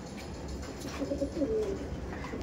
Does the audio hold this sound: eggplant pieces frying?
no